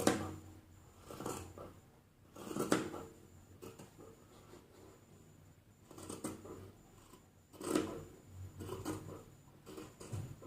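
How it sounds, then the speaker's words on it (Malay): Scissors snip through fabric being cut out for a modern baju kurung bodice, in a few separate bursts of crisp cutting strokes close to the microphone, with quiet pauses between them. "Okey, kita gunting."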